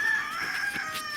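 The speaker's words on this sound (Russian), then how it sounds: "Петушок закукарекал." A rooster crows faintly in the distance outdoors near a forest dump site, a short, thin, drawn-out call heard alone over quiet background.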